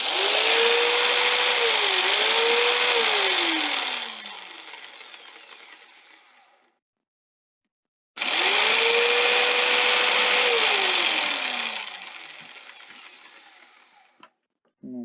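A Powerplus circular saw whines up to full speed, runs loudly with shifting pitch, then spins down; after a pause it starts again and winds down once more.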